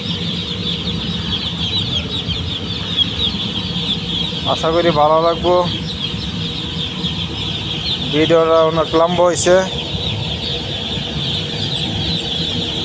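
Chickens on a poultry farm cluck in two short bursts over a steady background hum and farm noise, while a person talks throughout.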